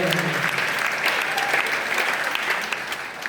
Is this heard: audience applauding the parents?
yes